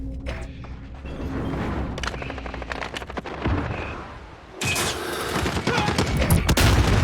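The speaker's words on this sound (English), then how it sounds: "we got somebody running around with a shotgun" Shotgun blasts and other gunfire crack repeatedly in a loud, chaotic video game firefight, with heavy bursts densest after the midpoint.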